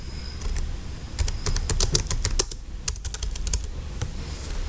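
Rapid, uneven clicks of a computer keyboard as someone types a name for a new Dev C++ project, close and distinct, in short bursts with a brief pause in the middle, with no speech.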